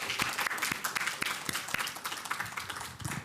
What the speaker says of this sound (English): Round of applause for Delaney, please.